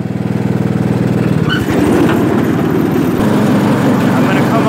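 A Craftsman T100 riding lawn mower cuts grass with its blade engaged, the engine rising from a steady putter into a loud, dense roar that holds close and continuous.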